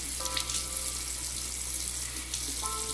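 Water from a tap running steadily to rinse whipped soap off skin, a continuous hiss at close range with a faint tonal hum beneath.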